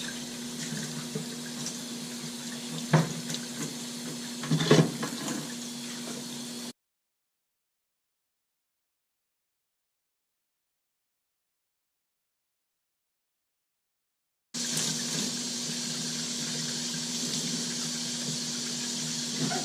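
Water from a tap runs steadily as a Fluval 406 canister filter's media holder is rinsed at a sink, with a few clunks of handling, then a long silent gap before the flow resumes just as strongly.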